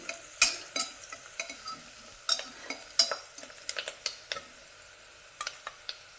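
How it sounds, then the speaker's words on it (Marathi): A spoon stirs rice khichdi with curry leaves and turmeric in a pan, with sharp intermittent scrapes and clinks over a faint frying sizzle, close up, with no talking. "याच्यामध्ये कढीपत्ता टाकून घ्यायचा हळद टाकली परत असं हलवायचं"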